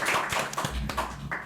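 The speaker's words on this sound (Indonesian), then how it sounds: "Tepuk tangan." A short burst of audience clapping at a World Heart Day 2024 health event. Separate claps land in an uneven rhythm, fairly close, with some voice-like sound mixed in.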